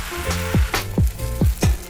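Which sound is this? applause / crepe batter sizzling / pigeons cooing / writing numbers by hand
crepe batter sizzling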